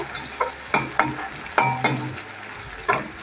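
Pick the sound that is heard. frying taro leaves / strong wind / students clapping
frying taro leaves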